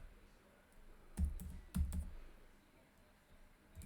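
Keys on a computer keyboard are tapped in two short, quiet clusters of clicks, with near silence between and after them.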